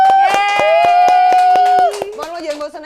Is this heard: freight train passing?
no